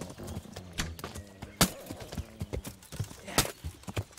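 Horse hooves clip-clopping in the medieval video game Kingdom Come: Deliverance, a brisk uneven run of hoof strikes close by, alone with no voices over it.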